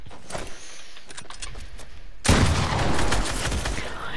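Gunfire in the video game Fortnite bursts in loud and dense after a quieter stretch of game sounds, a sustained volley of shots that fills the rest of the moment.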